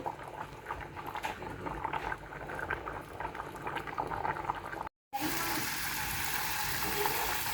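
Fish head simmers with moong dal, gourd and tomato in a pot, giving a steady close bubbling and hiss that briefly cuts out and then resumes.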